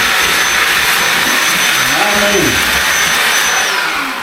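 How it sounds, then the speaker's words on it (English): A small DeWalt cordless battery-powered vacuum runs with a loud, continuous whine close by, its pitch dipping and rising briefly midway, with no talk over it. "This little vacuum I bought that DeWalt makes."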